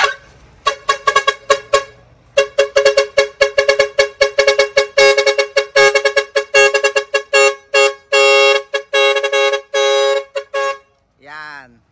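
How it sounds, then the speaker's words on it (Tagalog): A Yamaha NMAX scooter's horn, fitted with an aftermarket module, blares in a rapid series of short honks, then several long sustained blasts, loud and close, ending with a brief warbling tone. "Sir Rain, pa-sound check nga. Yung busina mo."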